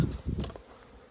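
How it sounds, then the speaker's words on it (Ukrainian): Bumblebees and honeybees fly near a beehive after a thaw, a brief close buzzing hum that fades within a second, quiet outdoors. "Джміль літає, це хорошо. Джилки теж літають, це теж добре."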